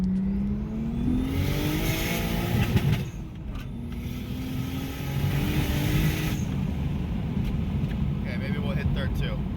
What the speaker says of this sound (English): All right, here's a little pull for the boys. Just do a second gear here